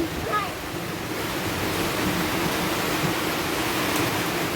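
Heavy rain driven by strong wind makes a steady, loud roaring wash that stays constant throughout, with no voices over it.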